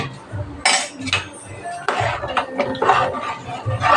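A metal spoon stirs brown rice in a cooking pot, with repeated loud scraping and clinking against the pot in uneven strokes, close by.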